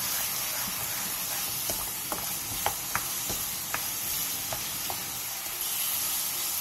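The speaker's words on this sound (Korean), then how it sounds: "양념이 바글바글 끓어오르면 꽈리고추를 넣고 2분 정도 볶아주세요" Shishito peppers stir-frying in bubbling, boiling sauce, a steady close sizzle and hiss with scattered light clicks of a spatula against the pan, with no talk.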